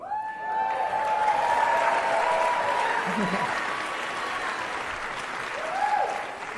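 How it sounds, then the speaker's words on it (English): Audience applause at a talk, a dense steady wash of clapping filling the whole stretch at moderate loudness, with a voice faintly audible through it. "Another round of applause."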